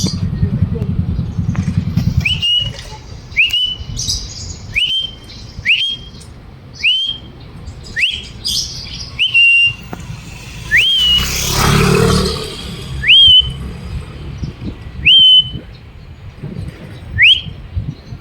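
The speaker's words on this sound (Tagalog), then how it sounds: "Balik na yung ibon natin, guys. Ngayon lang umuwi." A pet bird back home gives a run of about ten short rising whistles at a steady pace, loud and close, with a passing engine rumble and some talk between calls.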